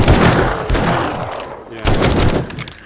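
Rapid loud gunfire blasts at a zombie in the video game 7 Days to Die, two close bursts of shots in quick succession.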